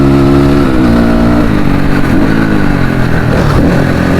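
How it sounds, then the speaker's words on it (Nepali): A motorcycle engine revs loudly and up close during a ride through jungle near Chitlang, its pitch rising and falling in repeated throttle surges over a continuous engine roar. "कस्तो नकुदेको के बाइक त यार"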